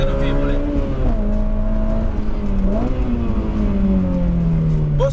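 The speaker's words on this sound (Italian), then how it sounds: "qui adesso la macchina è molto più vivace, ha più brio" A Honda S2000 fitted with a fresh replacement engine accelerates from inside the cabin, its tone climbing and dropping through gear changes as a loud, continuous drone.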